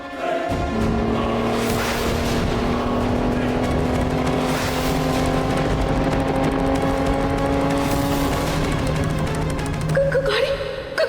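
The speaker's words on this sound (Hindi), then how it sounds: "गाड़ी रोक क्यों नहीं रही?" A car with failing brakes rolls on with a continuous engine drone and steady tonal hum that sustains throughout, loud and close, before shifting slightly near the end.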